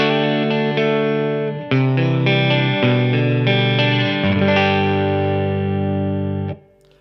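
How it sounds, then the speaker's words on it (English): Gibson Les Paul Special Tribute DC electric guitar on a clean tone with the neck pickup, a sequence of sustained strummed chords ringing out loud and full, fading at the end. "Let's start on a clean sound with a neck pickup."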